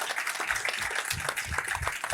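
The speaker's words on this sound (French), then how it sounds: "on va t'applaudir et te remercier chaleureusement" Applause from a small group on a French sailing podcast, thanking a guest: a brief, fairly faint patter of hands with some voices mixed in.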